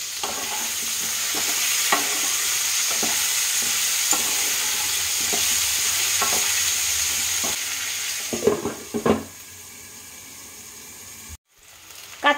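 Green banana pieces fry in a pan with a loud, continuous sizzle broken by regular stirring scrapes, then a few clatters, a brief silence and a final knock.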